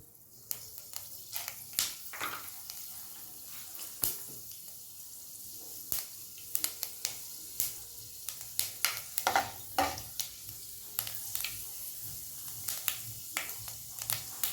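Fenugreek seeds sizzling in hot oil, a continuous bright frying hiss dotted with many quick pops and crackles throughout.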